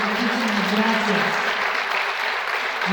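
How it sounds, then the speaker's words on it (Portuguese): A conference audience in Veracruz, Mexico, applauds in a thick, sustained roar while a voice speaks over it. "Un aplauso muy fuerte para Lorenzo Gobernador."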